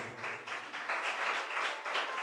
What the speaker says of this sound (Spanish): Dele un fuerte aplauso al Rey de Gloria.